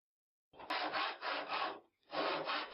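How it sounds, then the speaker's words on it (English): A plane works MDF pieces held against the face of a vise. Rapid rhythmic rasping strokes run in one quick series, pause briefly, then start again, close up in a quiet room. "Plane pieces to the face of the vise for maximum precision."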